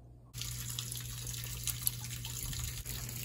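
Water drains steadily from a steam boiler whose head assembly is suspected of being plugged, a continuous close rushing flow starting abruptly after a brief quiet moment and running on evenly with no talking.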